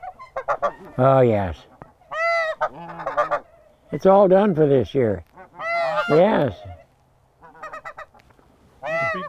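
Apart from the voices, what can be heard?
geese honking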